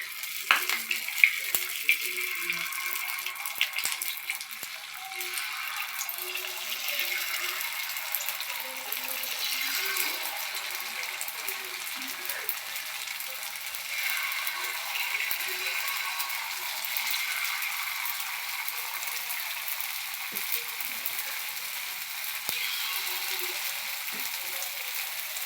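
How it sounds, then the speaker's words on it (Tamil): Ragi flour batter sizzles and fries steadily in a kuzhi paniyaram pan for sweet paniyaram, a continuous close crackle with faint clicks and no talking. "இப்போ மாவு ஊற்ற போகிறோம்"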